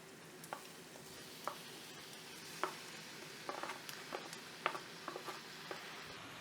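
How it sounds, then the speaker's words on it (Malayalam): Squid pieces stir-fried in a pan with a sizzling base, stirred with repeated light scraping and tapping strokes over a steady frying hiss, with no voices. "ഒന്ന് ഇളക്കി കൊടുക്കാം"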